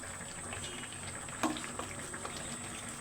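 Taro flowers simmer in a cooking pot, giving a steady soft bubbling and watery hiss throughout, with one brief clink partway through.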